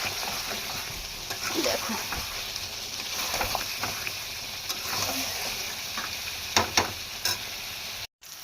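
Chicken curry with spices being sautéed in a pan at home, a steady sizzle broken by irregular scraping and clanking of a spoon, with a brief spoken word partway through.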